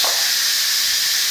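An Instant Pot pressure cooker releases steam in a continuous loud, bright hiss, steady and close throughout with no voices.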